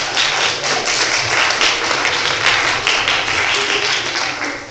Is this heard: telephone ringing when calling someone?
no